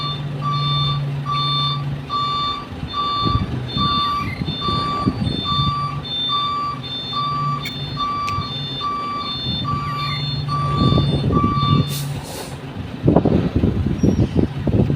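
A truck pulling a container trailer backs up in the rain at a container yard, its reversing alarm beeping steadily and evenly over a rumbling diesel engine, with occasional air-brake hisses and road noise.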